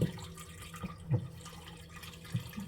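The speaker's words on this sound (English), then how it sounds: "I have 2 cups of warm water. I'm just going to pour it in here." Two cups of warm water poured into a mixing bowl for homemade bread dough, a soft, low liquid splashing with a few brief louder gurgles, heard close up and alone.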